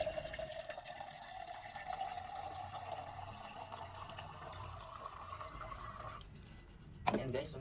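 Water is poured steadily into a Mercury anti-spill tumbler, making a continuous trickling fill that rises gradually in pitch, then stops and is followed by a short clunk.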